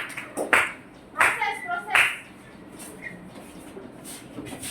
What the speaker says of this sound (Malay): tepukan untuk kawan-kawan